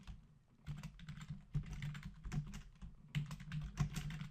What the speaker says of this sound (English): Either you type in the stuff that you want in the cell.